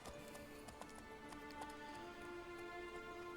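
Horse hooves clip-clop in a steady rhythm while riding in The Witcher 3 video game. The sound is faint and carries on under soft game ambience and music tones.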